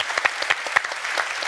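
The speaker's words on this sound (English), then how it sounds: "Round of applause, please" Conference audience applauding at a recovery-in-motion event as a podcast goes live, steady dense clapping from a seated crowd, fairly close and even throughout the short burst with no talking.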